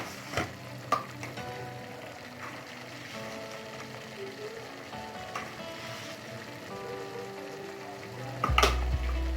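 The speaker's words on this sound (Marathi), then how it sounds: "आपण हे प्रथम आता मसाला चांगला हलवून घेऊया" Masala with coriander powder and salt sizzles quietly in a pan for a mixed Sankranti vegetable dish, with occasional stirring scrapes and clinks and a louder clatter near the end.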